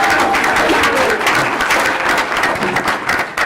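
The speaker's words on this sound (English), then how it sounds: "Let's go ahead and clap for Mr. Snavy." A board-meeting audience applauds for an honoree, with loud, steady, dense clapping from a close crowd that continues unbroken throughout.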